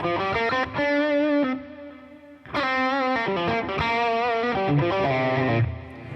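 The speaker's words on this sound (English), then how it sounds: "Now we've got parallel reverb and delay." Distorted electric guitar chords ring out with a wash of parallel reverb and echoing delay repeats, switched through a Boss ES-8, played loud and up close with a brief pause midway.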